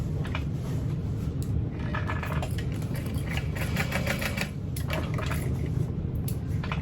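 A sewing machine basts fabric pieces for a circle bag into place, its steady mechanical whir running continuously and close with brief clicks and rattles over it.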